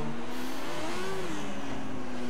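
An F1 2014 race car engine in a video game, revving up toward the rev limiter: a loud, continuous engine drone whose pitch climbs and wavers, then settles, with no pauses.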